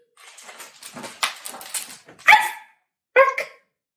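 Dog sounds during a children's storytime reading of Puppy Truck: a few soft whimpery yips give way to two sharp, loud barks, spaced about a second apart, close by.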